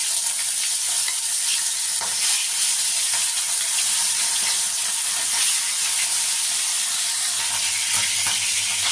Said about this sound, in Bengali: এবার আমি দু তিনটে করে মাছ ভেজে নেব